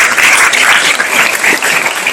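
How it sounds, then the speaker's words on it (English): A crowd at the Estuary Day 2019 welcoming ceremony claps for Lisa Barron of the U.S. Army Corps. The brief burst of applause is loud and close and stays full and continuous throughout. "Let's give Lisa Barron from the U.S. Army Corps for a round of applause."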